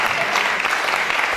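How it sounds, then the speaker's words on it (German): An audience applauds the lead actors of the musical Grease: a steady, dense wash of clapping throughout, loud and close, with no talk over it. "Nochmal ein großer Applaus für die Hauptdarsteller aus Grease"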